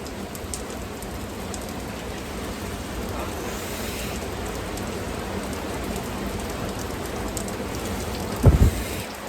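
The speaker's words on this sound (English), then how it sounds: "The rain is still coming down." Steady rain falls across a public park on a rainy afternoon, a continuous wash of drops hitting surfaces with a faint distant rumble, and a brief louder thump or knock near the end; no one speaks.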